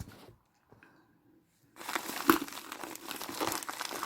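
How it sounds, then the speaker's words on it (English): Near, quiet crinkling and tearing of a plastic mailer package starts after a brief silence and continues in rustling bursts. "Probably should have had scissors next to me to do this."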